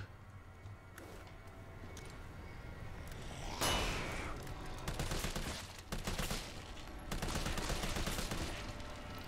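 Rapid gunfire in the Resident Evil 3 video game, dense bursts of shots crackling almost continuously with louder volleys near the middle and end, no talking over it.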